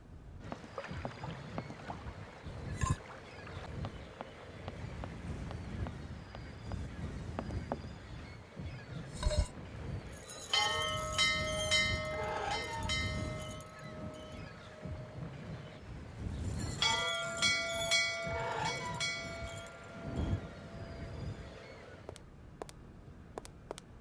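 A bell in the video game Syberia rings with sustained metallic tones in two separate stretches, heard over a steady roar of wind.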